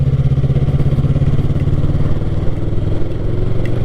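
Yamaha MT-03 motorcycle engine humming close and loud while riding, a steady mid-pitched drone with a slight shift in revs partway through.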